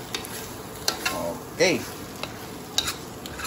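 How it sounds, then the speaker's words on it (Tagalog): Eggs and bitter gourd (ampalaya) are stirred in a pan, a soft sizzle under a few scraping and clinking strokes of a utensil, while someone speaks briefly over the cooking. "Halu-haluin na po natin"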